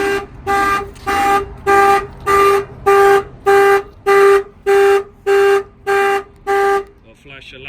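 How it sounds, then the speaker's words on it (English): A Chevy work van's alarm system blasts its horn in a steady run of about eleven loud, evenly spaced honks, close and sharp, before a brief fluttering tone at the end. "the alarm's going to set off."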